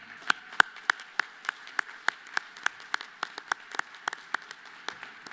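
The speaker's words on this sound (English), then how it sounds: "How about a round of applause for that?" Quiet, evenly spaced handclaps at a CFO of the Year awards event, a sparse, regular pulse of claps after mention of Rush University Medical Center, with no one speaking over them.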